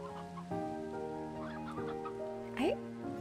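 Chickens clucking in the Slime Rancher 2 video game, two roosters and a hen among them, with overlapping close calls over a steady harmonic game music bed and a short rising squawk near the end.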